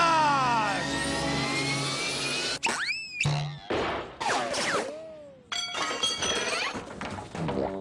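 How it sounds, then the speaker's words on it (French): A cartoon satellite rocket takes off in a Donkey Kong Country episode: loud sweeping whooshes and whistling tones, booming thunks and springy zaps come in rapid bursts, with a voice briefly heard among the effects. "Mon satellite va bientôt décoller."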